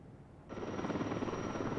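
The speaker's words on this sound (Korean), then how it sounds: "굉음을 내며 다가오는 초대형 산불 진화 헬기" A huge wildfire-fighting helicopter roars in abruptly and holds a steady, loud, close rotor and engine drone with a high turbine whine on top.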